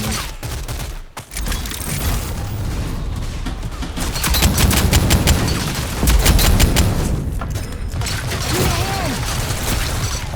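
Dense, loud gunfire from the shooter game Rogue Company, with rapid automatic bursts and explosions piling up in an almost continuous barrage for the whole stretch, briefly dropping out near the start.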